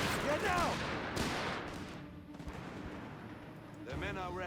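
Distant gunfire and explosions in the World War II strategy game Company of Heroes 3, a muffled rumble of shots under a commentator's voice.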